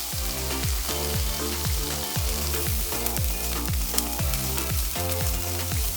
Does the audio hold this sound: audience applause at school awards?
no